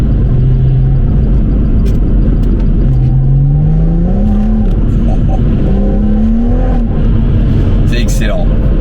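A BMW M140i in sport plus mode with manual shifting accelerates hard, its engine note rising in loud, close sweeps between gear changes under heavy road rumble, a voice speaking over it.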